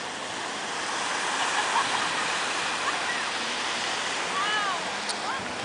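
Ocean surf rushes in a broad, steady wash at Waikiki Beach, Hawaii, at sunset, with faint distant voices or whistles rising briefly near the end.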